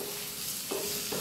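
Onions sautéing in a frying pan on a stovetop for a Kerala beef roast, a brief close hiss of sizzling with a couple of stirring scrapes, no talk.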